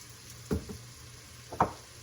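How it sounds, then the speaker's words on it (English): Vegetables sautéing in a pot give a steady low sizzle, broken by two brief stirring scrapes and sputters. "we are going to saute these vegetables"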